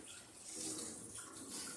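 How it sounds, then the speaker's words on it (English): Hot tap water runs into a sink for a short spell to rinse a hydrometer during home watermelon wine making, a faint, steady splashing hiss heard alone. "and rinse it with hot water"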